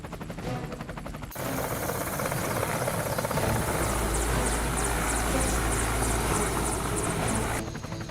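A helicopter descends and circles for a final pass, its rotor thumping loud and continuous nearby, the engine roar building after a brief quieter start and holding steady throughout.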